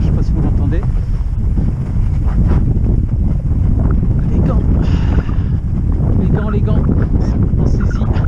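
Strong wind roars across the microphone on a snowy mountain in the Hautes-Alpes during a fat bike ride, a loud continuous buffeting rush throughout, with someone speaking briefly under it.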